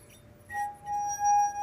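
A taller drinking glass filled with water is struck once, sounding a clear, lower-pitched ring that swells and sustains for over a second, close and alone with no talk.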